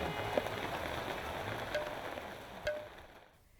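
Monsoon rain pattering steadily over a flooded, waterlogged city in Gorakhpur, a dense, even hiss with occasional louder drops and ticks, soft and moderately distant, easing toward the end.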